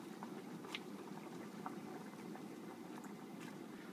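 A pot of pasta and broccoli boils quietly in water, with a low steady rumble and scattered small bubbling pops throughout.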